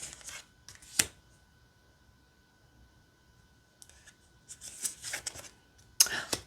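Thin, flexible self-care wisdom cards are shuffled by hand in quiet, soft riffling bursts, with short papery flurries separated by near silence.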